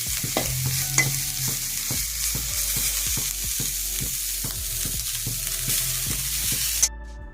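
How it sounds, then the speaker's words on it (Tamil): Small dried fish sizzle steadily in hot oil in a pan, close and loud, while a spoon scrapes and stirs in a regular rhythm of sharp clinks throughout, with no talking. "நல்லா வறுத்து கொஞ்சம் எடுத்துக்கணும்"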